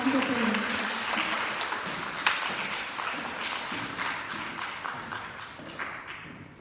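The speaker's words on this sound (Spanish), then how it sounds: "les pido un aplauso para él" Audience applause for a speaker at a talk on sexuality with young people in Huajuapan, a crowd of hands clapping steadily and fairly close, with a brief voice near the start, gradually fading.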